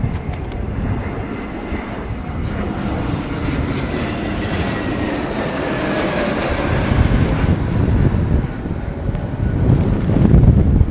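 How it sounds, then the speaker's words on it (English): Strong storm wind roars at Heathrow Airport as a dense, continuous rumble with buffeting on the microphone, growing slightly louder toward the end. "wind should start to decrease soon"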